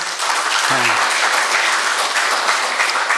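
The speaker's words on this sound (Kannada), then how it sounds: "ದಯವಿಟ್ಟು ಇನ್ನೊಂದು ಚಪ್ಪಾಳೆ ಹೊರಿಸಿ" An audience at a book launch for Madhav Gadgil's autobiography applauds in a loud, steady round of clapping that carries through the whole stretch, with a brief voice rising over it near the start.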